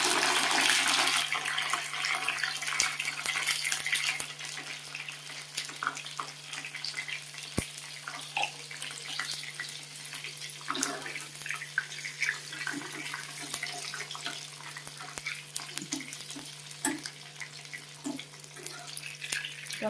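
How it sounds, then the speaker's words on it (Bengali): Tomatoes frying in hot oil in a home kitchen pan, a steady close hiss and sizzle that runs for the whole stretch and eases slightly after the first few seconds, with no one talking over it. "টমেটোগুলো ভালো করে ভেজে নিতে হবে"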